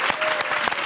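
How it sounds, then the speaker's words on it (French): An audience on a French game show applauds, a dense burst of clapping heard up close and continuing throughout the short moment. "On va applaudir le maître du jeu, Olivier."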